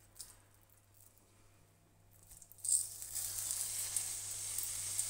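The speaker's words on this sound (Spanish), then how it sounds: "lo que vamos a hacer es pasarlo por la sartén, por los dos lados, lo vamos a sellar" A stuffed turkey tenderloin meets hot oil in a frying pan: quiet at first, then a sudden sizzle rises and settles into a steady, close, crackling fry.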